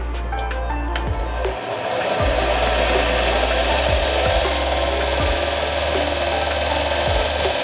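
A small electric bench grinder, a Start Pro, runs steadily close by, its motor humming with a constant whine and faint periodic ticks from the spinning wheel.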